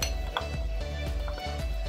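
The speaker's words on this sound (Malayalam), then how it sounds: "ഇനി ഇതിലേക്ക് ഞാൻ ഈ വിപ്പിംഗ് ക്രീം ഒഴിച്ച് നന്നായിട്ടൊന്ന് ഇളക്കി കൊടുക്കുകയാണ്." Chocolate, peanut butter and whipping cream being stirred in a bowl, a utensil scraping and clinking against the sides in an uneven rhythm, close and fairly quiet.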